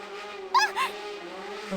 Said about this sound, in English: A moped suddenly appeared out of nowhere and zoomed right past her.